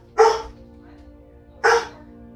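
A pet dog indoors gives two loud, close barks about a second and a half apart, with a steady low hum underneath.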